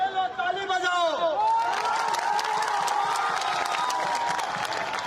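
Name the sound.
audience applause at a political rally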